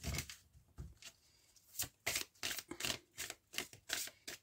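Tarot cards being shuffled by hand in a series of crisp riffling bursts and soft slaps, close and fairly quiet, with short pauses between them.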